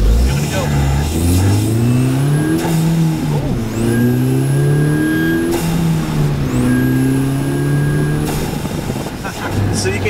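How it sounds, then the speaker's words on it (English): Turbocharged car engine fitted with a Unitronic cold air intake, heard from inside the cabin with windows down, rising and falling through repeated acceleration pulls with a whistling spool over a steady engine drone. "Definitely hear the turbo spool a little more when the windows are down."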